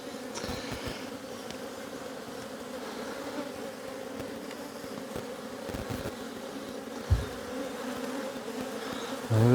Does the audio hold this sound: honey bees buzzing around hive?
yes